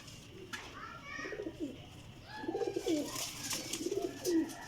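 An old desi pigeon coos in low, repeated throaty bursts, close by and moderately loud, with a brief higher bird call near the start and faint background noise.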